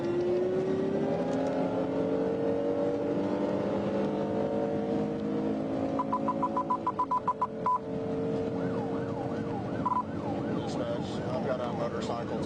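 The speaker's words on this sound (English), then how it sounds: "I've got a motorcycle taking off on me" A motorcycle speeds off from a police pursuit on a highway, its engine whine climbing steadily in pitch. It is layered with a burst of rapid electronic beeps and a wavering siren-like tone later on.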